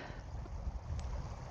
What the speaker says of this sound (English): It is quite windy, I apologise.